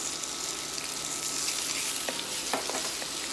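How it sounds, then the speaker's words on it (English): Beef browning in olive oil in a stew pot, a steady close sizzle of frying with occasional stirring scrapes and clicks over the constant hiss, no talking. "Right, so we want to brown this meat."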